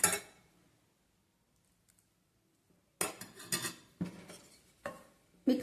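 Sweet potato flour dough being mixed with hot water using a spoon in a bowl: a brief scrape, a quiet pause, then a run of loud clinking, scraping strokes close by.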